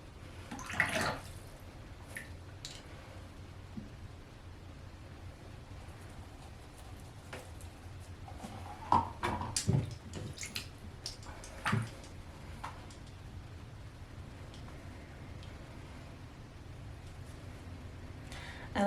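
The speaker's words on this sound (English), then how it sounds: "when I was doing the brush washing" Water splashes and trickles quietly as Kolinsky watercolour brushes are rinsed, with soft drips and a few sharper splashes and taps, close and low in level, with no talk.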